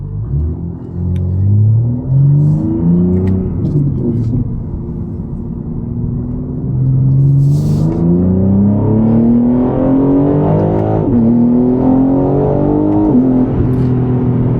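A BMW G80 M3 in CS tune accelerates hard in sport mode, its engine note climbing through the revs, then dropping sharply at quick gear shifts, repeating through several gears, loud and close from inside the car.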